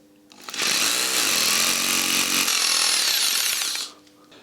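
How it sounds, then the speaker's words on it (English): A power drill fitted with a smaller bit pre-drills a hole in concrete for a two-post car lift, one continuous loud whining burst of about three seconds that spins up and then winds down, close to the listener. "So first I will pre-drill the hole with a smaller bit."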